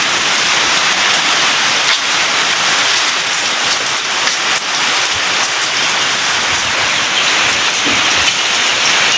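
Heavy rain from a sudden storm squall over the sea hisses loudly and steadily without pause, a dense, close, unbroken downpour with no voices.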